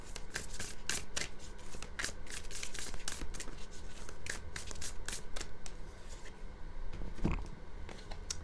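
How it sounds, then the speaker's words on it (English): Oracle casting cards being shuffled and drawn from a deck, a steady run of close, crisp riffling and flicking with no talk, ending in a single louder card slap near the end. "I'm also going to draw a card from my deck, Color Goddess Casting Cards."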